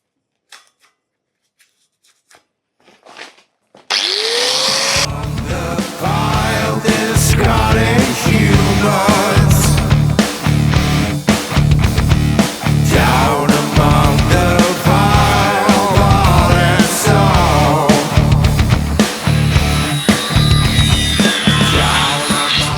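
An angle grinder fitted with a fresh cutting disc cuts into steel during a trailer rebuild, starting abruptly after a few seconds of near silence and then running loud and continuous with pulsing, chattering bursts as the disc bites.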